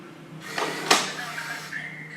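A Yale Z-Wave door lock unlocks by remote command, giving a brief motorised whir and a sharp mechanical clack of the bolt, close and moderately loud, with no voices.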